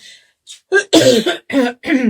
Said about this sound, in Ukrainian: Кашляю опять щось